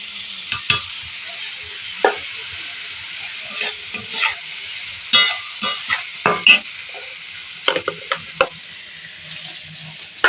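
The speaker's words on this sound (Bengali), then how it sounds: "টমেটোটা একটুখানি নেড়ে নেব টমেটো কুচি নাড়া হয়ে গেছে" Chopped tomato being stirred in a frying pan while making chira poha, with irregular spoon scrapes and clacks over a soft, steady sizzle; no one speaks.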